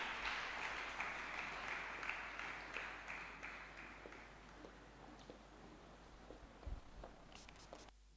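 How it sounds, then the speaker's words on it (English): Audience applause greets a year 13 student walking on stage at a junior school graduation ceremony, loud dense clapping at first that gradually thins and fades over several seconds, with a few scattered claps lingering near the end. "A big round of applause as she comes on stage."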